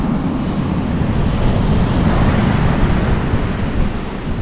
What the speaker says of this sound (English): I didn't realize this wind was gonna be blowing like this.